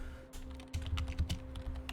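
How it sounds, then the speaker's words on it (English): Typing on a computer keyboard at a desk, a quick run of soft clicking keystrokes close to the mic over a steady low electrical hum. "You're gonna hear my typing"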